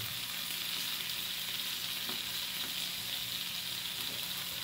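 White shrimp sizzle steadily on an oiled griddle pan over medium heat, salted above and below, a continuous close frying hiss with no talk.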